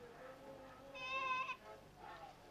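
A goat bleats once near a barn, a short wavering cry that rises above a quiet indoor background, with a fainter second call trailing after.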